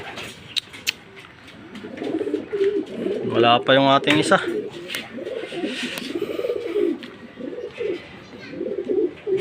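Racing pigeons coo in soft, rolling bursts beneath someone talking, with scattered clicks and outdoor background noise.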